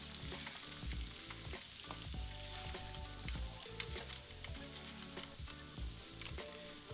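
Strips of sriracha-glazed bacon sizzle and crackle steadily in a hot pan, a dense continuous frying hiss with scattered sharp pops and faint clinks, fairly quiet and close, with no talking.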